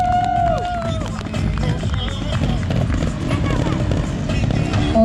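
A lively rally crowd cheers and hollers in a dense, continuous roar, with whistles and shouts rising over the noise throughout.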